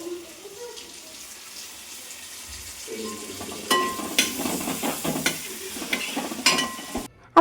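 Sliced onions and green chillies fry in a pan, a soft sizzle that swells when stirring and scraping begin partway through, close and with no voices.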